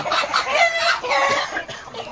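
A desi village rooster clucks loudly and close up in a run of throaty, repeated calls with short breaks between them.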